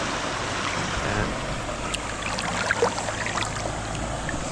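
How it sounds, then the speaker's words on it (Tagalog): River water flowing steadily at the Karanglan river, a continuous broad rushing wash with faint splashes, close and fairly loud throughout with no talk. "Ang sarap magtampisaw sa tubig ng ilog ng Karanglan."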